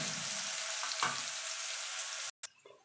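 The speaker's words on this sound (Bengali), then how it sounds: "দিয়ে আলুটা লাল লাল করে ভেজে নেবো।" Potatoes fry in oil with salt and turmeric in a pan, making a steady, moderately quiet sizzle with a brief stirring clatter, then a sudden cut to silence followed by fainter sizzling.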